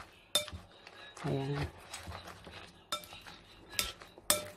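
Cabbage and chilli omelette mixture being stirred with a utensil in a bowl, light clinks and taps against the rim at irregular intervals, close by, while a person says a short word.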